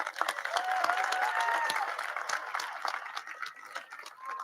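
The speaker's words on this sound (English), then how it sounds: "Give them a big round of applause." A large crowd at a high school graduation ceremony claps for the graduates in a broad wash of applause, softening toward the end, with scattered voices and faint cheers beneath.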